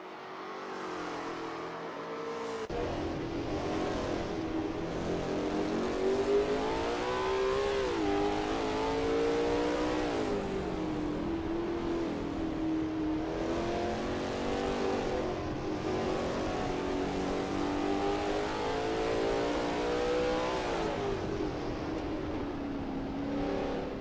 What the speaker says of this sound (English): David Zahn is expertly commanding that car through Liucop Bend